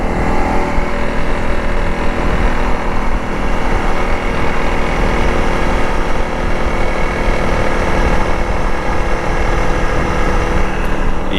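A Honda CRF300L Rally motorcycle engine held around 4,000 to 5,000 rpm gives a loud, steady, buzzing drone with a constant mechanical rattle running through it, close and unbroken for the whole stretch.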